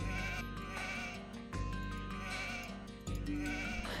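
Sheep bleating in the Age of Empires 2 strategy game, a few bleats mixed into a steady, dense layer of in-game music and ambience, moderately quiet throughout.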